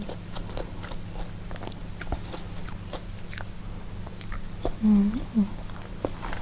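Someone bites and chews blanched noodles scented with garlic, with soft wet chewing and a couple of brief, louder bites near the end over a steady low background hum.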